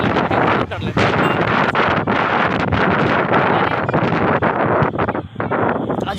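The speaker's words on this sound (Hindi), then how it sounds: "बहुत हवा है, जैसे लग रहा है कि हम भी इसके साथ उड़ जाएंगे, इतना तेज हवा है" Roaring gusts from an evening storm buffet the microphone outdoors, loud and relentless with rushing rustle and brief lulls, and a voice can be made out faintly under the wind.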